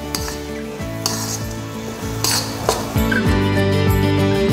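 Masala for quail egg kadai masala sizzling in a pan on low flame, with a steady close crackle broken by several clinks and scrapes of a metal spoon stirring against the pan.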